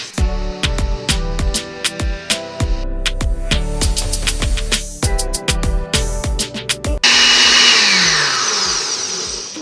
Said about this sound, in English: So I'm just gonna put this on the blender, cover my blender, of course.